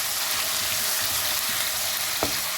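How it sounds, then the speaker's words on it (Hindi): Spices and leftover onion with cumin and star anise fry in a pan for a kofta and potato gravy, a steady close hiss of sizzling oil with a single sharp knock of a spoon against the pan near the end. "जब इसको इसी तरह से भूनेंगे"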